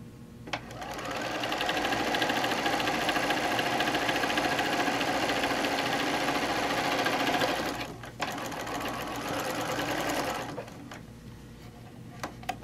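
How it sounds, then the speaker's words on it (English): A sewing machine stitches a quilt block in a long, loud, steady whirring run, pauses briefly, then runs again at a lower level before stopping. "we're going to sew"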